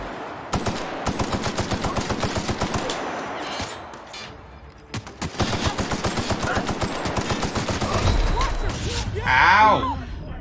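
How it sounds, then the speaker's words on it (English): Rapid automatic gunfire in The Outer Worlds hits the player in fast, loud, regular bursts over two long stretches. A pause falls between them, and a groaning voice follows near the end. "I keep getting shot."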